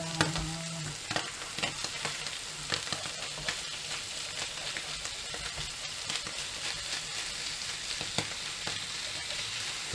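Fish pan-frying in a supposedly non-stick pan gives a steady close sizzle and crackle, with occasional scrapes and stirs breaking through the hiss.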